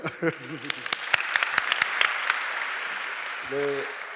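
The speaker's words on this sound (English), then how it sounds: "Just clap for him." Lecture audience clapping in a scattered, uneven burst of individual claps, moderately close, with brief voices speaking at the start and end.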